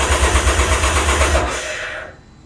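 Can-Am Ryker engine cranking after a fuel pump replacement, a loud, close, rhythmic churning of the starter that runs for about two seconds and then cuts off abruptly into near silence, with no speech.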